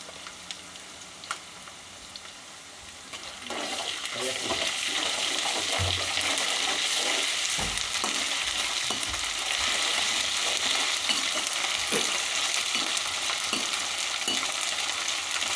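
Ginger garlic paste frying in a pan, a quiet start that jumps to a loud continuous sizzle, with scattered clinks and scrapes of stirring close by and no voices.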